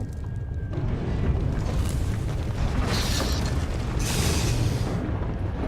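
A heavy groundquake in Star Wars: The Old Republic gives off a loud, continuous deep rumble with rolling surges of crackle and debris noise, without any voices.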